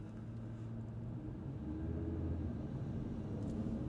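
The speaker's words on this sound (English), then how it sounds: "And then as I accelerate away here" A 2024 Audi RS3 drive, its turbocharged engine droning steadily from inside the cabin as the car accelerates away, the low rumble building slightly in loudness with no clear break at the shift.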